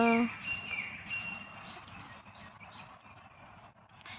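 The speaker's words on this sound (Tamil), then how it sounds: "குருவி கத்துறது கேட்குதா?" Sparrows chirp outdoors near a rural home with betel vines, a few short, high tweets close by at the start, then fainter calls over a steady background murmur while someone speaks.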